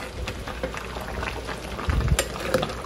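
Salted, soy-seasoned minudo with pepper being stirred in a cooking pan, a steady bubbling simmer with soft scraping and clinks from the spoon throughout.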